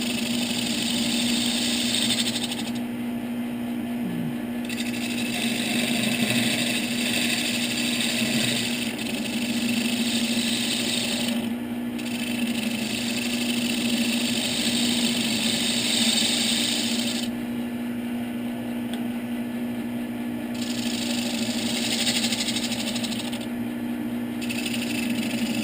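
A regular spindle gouge cutting wood on a spinning lathe, giving a steady, continuous whirring hum with a constant motor drone and faint scraping, close and alone throughout.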